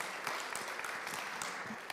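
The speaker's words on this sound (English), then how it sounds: "deserves an applause" Quiet audience applause at a panel discussion during an international chamber choir competition, soft, distant-sounding clapping that runs steadily for a couple of seconds.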